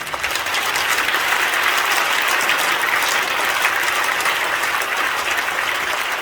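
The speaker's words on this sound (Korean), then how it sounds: "다시 한번 인사하실 때 뜨겁게 박수해 주시기 바랍니다." Warm applause from an assembly at a Korean Holiness Church general assembly, a dense, steady wash of many hands clapping that holds loudly from start to finish with no speech over it.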